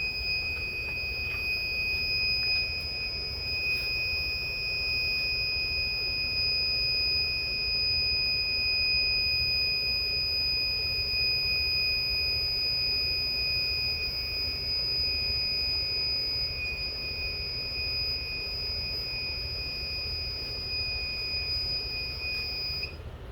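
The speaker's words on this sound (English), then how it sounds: "we just got our alarm going off on the oven" An oven's alarm beeps as a steady, high electronic tone that sounds continuously at low volume over a constant mechanical hum in a workshop, with no talking.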